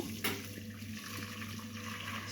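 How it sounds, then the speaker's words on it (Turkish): Curdled homemade cheese strained through a strainer, with a soft, steady wash of running liquid and a brief splash near the start, heard alone and fairly quiet. "Onu süzgeçten geçirip süzülmesini sağlayacağım."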